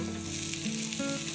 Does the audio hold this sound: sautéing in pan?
yes